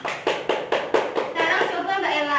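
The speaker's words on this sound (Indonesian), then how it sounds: "Tepuk tangan Mbak Salma." A class claps in unison for a student during a microteaching lesson: about six sharp, rhythmic group claps near the start, then scattered applause mixed with talking voices.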